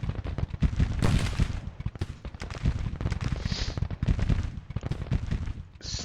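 Dense, continuous gunfire and artillery booms fill a Civil War strategy video game battle, with rapid overlapping shots throughout and no talk.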